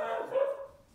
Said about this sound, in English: Yeah, I'm really sorry about my dog barking.